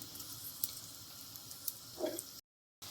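Small onions dropped into hot oil for a Kerala-style pork roast, giving a steady, soft sizzle and crackle close by with a few brief clinks, then a short pause.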